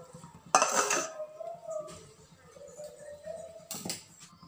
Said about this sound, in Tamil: இப்போது திரும்பவும் நம்ம மூடி போட்டு வேக விட்டுறலாம்.